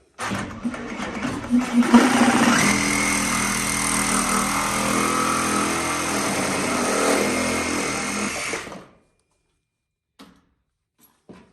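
A powered saw with a fine-tooth blade cuts through plastic drain pipe, producing a loud, steady buzzing whine up close for about eight seconds, then stopping, followed by a few faint knocks.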